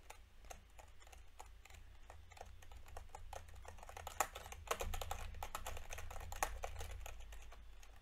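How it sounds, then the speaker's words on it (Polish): Steady, continuous keystrokes on a computer keyboard, a fast run of clicks with a few louder key presses, close and clear over a low background hum, with no talking. "Super jest ten dźwięk klawiatury."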